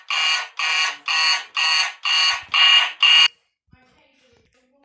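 Fire alarm sound from a Scratch Jr project: seven loud, evenly spaced electronic buzzing beeps in a steady rhythm, then an abrupt stop into near silence.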